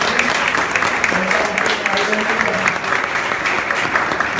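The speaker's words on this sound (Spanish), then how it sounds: "le regalamos este aplauso a este joven que está aquí" Steady applause from a church congregation during a family worship service, loud and continuous for several seconds.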